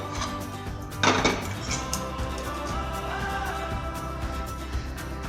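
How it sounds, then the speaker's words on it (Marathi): A thick besan (gram flour) mixture is scraped out of a cooking pot with a metal utensil, giving close, steady scraping and clinking against the pot, with a louder burst of scraping early on. "व्यवस्थित सगळं पातेल्यातलं आपण काढून घेतोय."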